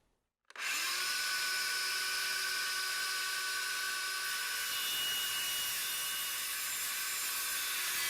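Power tool cutting a vinyl post holder, a loud steady high-pitched whine that starts abruptly after a brief silence and holds evenly throughout.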